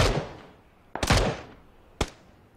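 Gunshots ring out in a PUBG battle royale match, three sharp distant cracks spaced about a second apart, each followed by a short echoing tail.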